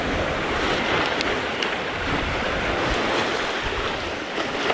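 Heavy surf roars continuously as large waves crash close by on a shoreline, with wind buffeting the microphone throughout.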